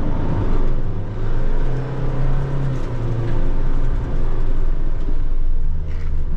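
A Mitsubishi Triton single-cab pickup in 4WD labours off-road, its engine giving a steady loud rumble and drone with low wind buffeting throughout, no voices.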